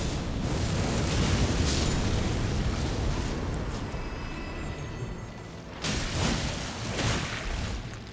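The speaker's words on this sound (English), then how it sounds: "I do wish the blast radius on the Mesmer's orb was a little bit bigger." Rumbling game explosions in Elden Ring, a Mesmer's orb blast with loud sustained roaring and renewed bursts near the end, dense and close with no speech.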